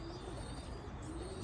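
Pigeons coo softly inside a racing loft, a low murmuring under steady background hiss, with faint chirps and no voices.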